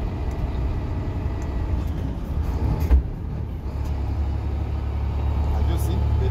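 A heavy truck engine drones steadily in the cab while climbing uphill and changing down toward sixth gear, with a low continuous rumble, a brief knock near the middle and revs building slightly toward the end.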